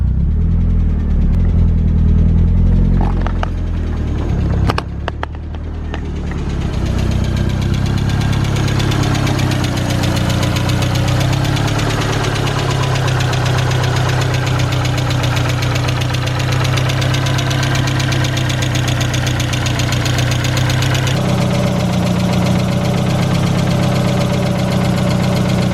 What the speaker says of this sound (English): Still a tiny bit of lifter tick, but it's going away.